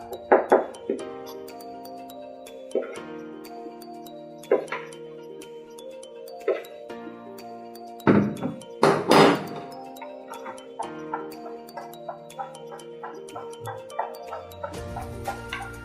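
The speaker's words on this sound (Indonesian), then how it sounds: "Kita aduk adonan kering ini supaya dia rata." Dry banana muffin batter is stirred in a bowl, giving repeated light clinks and scrapes of a utensil against the bowl, irregular and close, with a louder cluster of knocks midway.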